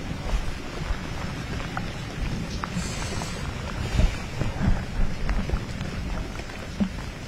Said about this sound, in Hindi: बारिश का सिलसिला चल रहा है